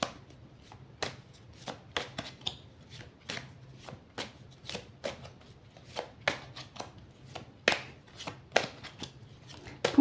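Tarot cards being shuffled by hand, a brisk series of close, crisp riffling and slapping bursts coming in an uneven rhythm, with nothing else behind them.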